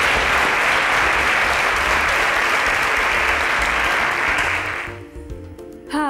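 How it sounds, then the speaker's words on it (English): An audience at a televised science show applauds, with dense, loud, steady clapping for about five seconds that then fades quickly toward the end. "A round of applause for them, please."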